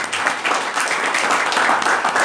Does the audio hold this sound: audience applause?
yes